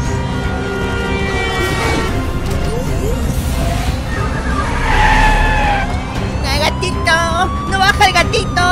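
Car tires skidding and screeching during a chase, loud and sustained with bursts of squeal and a possible impact, mixed with music and excited voices.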